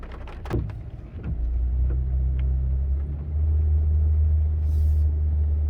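A truck idling and revving on a muddy back road far from anywhere while turning around, a steady low engine rumble that swells louder after a brief dip, with a few clunks near the start.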